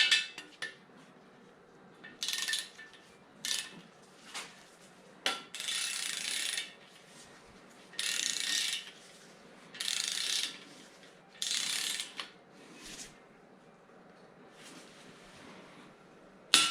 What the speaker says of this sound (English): these oil plugs have to be torqued to 44 pounds